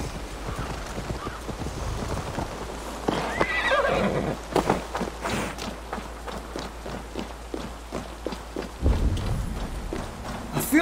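A horse in Assassin's Creed Valhalla clip-clops over ground and lets out a neigh midway, hoofbeats close and rhythmic, with game ambience and a heavy thud near the end.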